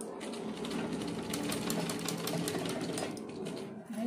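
Sewing machine stitching a blouse design in fabric, its needle chattering in a fast, even run at close range, fairly quiet, with no voices over it.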